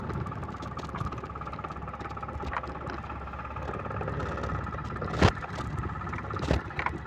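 A scooter engine hums steadily as the rider turns around, a close continuous drone with a couple of brief scraping knocks near the end.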